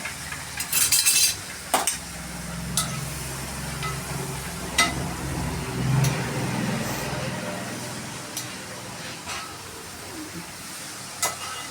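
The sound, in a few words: stirring long beans stir-fry in oil in a pan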